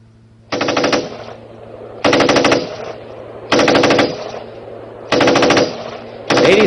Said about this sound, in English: you can hear the opposition forces firing on our Gemini aircraft